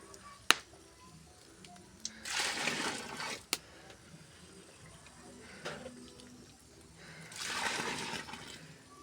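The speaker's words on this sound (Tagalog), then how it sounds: "Bukasan natin ng tubig guys." Tap water turned on and running into buckets: two swells of rushing, splashing flow, near and moderately loud, with a few sharp knocks from handling in between.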